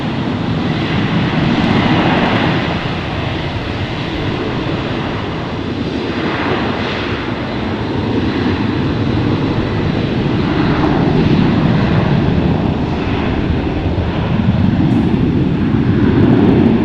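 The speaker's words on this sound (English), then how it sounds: "here's the 737-900 headed to Salt Lake City" Boeing 737-900 jet airliner taking off from Fort Lauderdale International Airport, a loud continuous engine roar that swells and shifts in pitch, steady throughout with no talking.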